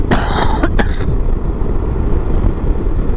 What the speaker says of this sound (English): I'm just going to cough, sorry about that.